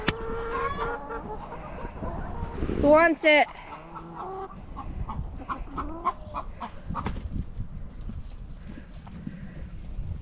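Chickens cluck and squawk nearby, with a sharp burst of agitated calls midway, while a person speaks briefly over the scene.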